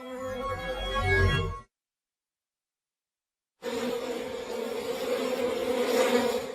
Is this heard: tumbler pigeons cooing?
no